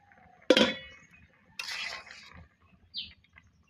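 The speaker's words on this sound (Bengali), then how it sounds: "এবার আমি ঢাকনা দিয়ে ঢেকে দিব" A lid set onto a pot of radish pieces parboiling with turmeric gives one sharp metallic clink with a ringing decay, then a softer rattling scrape and a brief high squeak, each separated by quiet.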